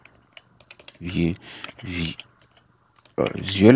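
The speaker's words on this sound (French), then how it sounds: "Je tape encore là" Rapid clicking keystrokes on a computer keyboard while working in Windows, with scattered taps running under someone speaking French nearby.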